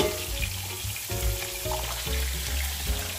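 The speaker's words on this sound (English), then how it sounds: "We have to wait until this fish is golden brown." Fish sizzles and crackles steadily in a hot pan as it fries toward golden brown for a sweet and sour dish, with a dense, close frying hiss and occasional louder pops throughout.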